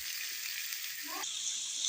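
Steady close sizzle of 300 grams of chicken frying in a pan with ginger paste for a samosa roll filling, a continuous bright hiss that briefly swells near the end.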